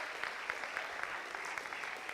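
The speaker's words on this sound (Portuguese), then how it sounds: "Aplauda o Senhor, Ele quer te dar estratégias." Church congregation clapping steadily, a dense crowd of hands filling the room with continuous applause at an even level from start to finish.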